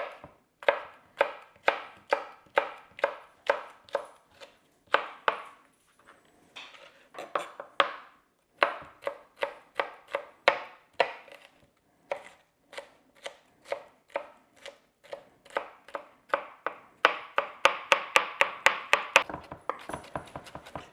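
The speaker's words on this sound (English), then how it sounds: "now I'm just going to be slicing this up, doing a fine dice on it." A knife finely dices a jalapeno on a cutting board, dozens of crisp close rhythmic taps with short pauses, speeding into a dense flurry near the end.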